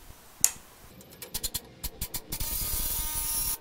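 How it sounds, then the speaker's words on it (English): A few ratchet clicks on the front brakes of a 2007-08 Acura TL Type-S, then a steady close hiss of WD-40 lubricant sprayed onto the threads, lasting to the end. "we'll put some WD-40 on it"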